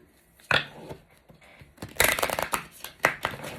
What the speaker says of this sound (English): I can't even shuffle the deck.